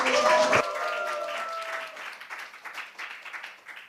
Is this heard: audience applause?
yes